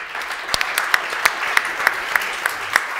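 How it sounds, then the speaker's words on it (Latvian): Audience applause for a panel of experts at a discussion event, steady clapping from a crowd with sharper individual claps popping out at a close, even rhythm. "visi eksperti ir pelnījuši tiešām liels aplausus"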